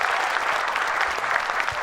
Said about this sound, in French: Je voudrais qu'on l'applaudisse très fort encore une fois.